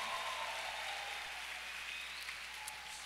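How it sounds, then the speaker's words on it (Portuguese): Applause at a church conference, a soft, distant, even hiss of many hands clapping that holds steady from start to end. "Dá uma salva de palmas para Jesus."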